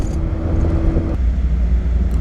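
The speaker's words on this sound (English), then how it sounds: "So, of course, we opted for the Datsun 1600 and nervously took it out of the safety of the garage for a short road test." Classic Datsun 1600 car on a short road test, a steady low engine drone with road rumble carrying close and continuous throughout, the tone shifting slightly partway through.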